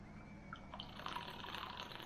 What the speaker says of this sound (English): That's my water bottle.